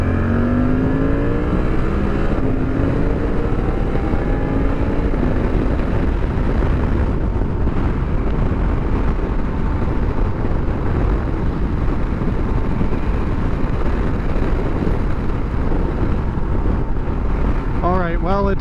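A 2023 Suzuki V-Strom 800DE motorcycle cruises on a freeway, its steady engine drone nearly buried under loud, continuous wind roar across the microphone, with a brief pitch rise near the start and constant broadband rushing throughout.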